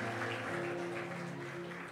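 A church congregation claps together at a sermon, a dense, steady patter of hands over sustained music with low tones. It continues at a fairly even level for the whole stretch.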